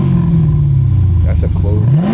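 Car engine with a valved exhaust revving: a loud, close, low droning rumble that rises in pitch at the end of the rev, with a voice talking over it.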